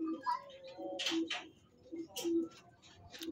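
Soft, low cooing and faint chirpy peeps from young Hungarian pigeons on a pigeon farm, close by, coming in short repeated bursts with quiet gaps.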